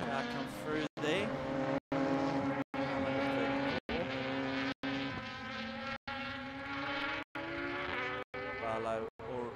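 At a state motor racing championship round, a race car roars past on the circuit with a loud, sweeping engine note that rises and falls. The sound is cut into short segments by repeated brief dropouts.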